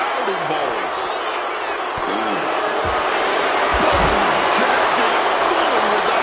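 Arena crowd noise in a WWE SummerSlam wrestling video game: a dense, continuous roar of cheering and shouting that holds steady and swells slightly, with commentary voices underneath.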